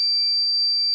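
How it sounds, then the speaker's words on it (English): A Sublifun 2-in-1 tumbler press gives one steady, shrill electronic beep tone that holds unbroken and loud for the full second, with no talk over it. "the beep would warn you and say like, hello, your tumbler is done"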